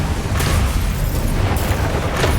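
Bombarda spell explosion in Hogwarts Legacy, heard as a couple of booming blasts with broad crackling bursts over a low rumbling background, fairly loud and close.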